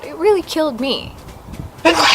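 A single sharp sneeze bursts out near the end, close and loud, following stretches of a person talking, during a home glute workout.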